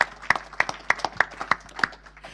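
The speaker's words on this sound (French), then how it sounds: "On peut applaudir Tiffany." Scattered applause from a conference audience, a small number of distinct hand claps in an uneven rhythm, fairly faint and thin, tapering off within a couple of seconds.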